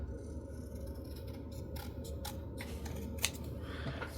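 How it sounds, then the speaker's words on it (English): Scissors snip through folded card while making a tent-fold card with a swinging panel, a few faint crisp cuts in a quiet room. "you can just snip it off like that"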